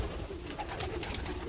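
A black pigeon in a breeding loft coos softly amid a busy, noisy loft background with scattered rustling and wing sounds.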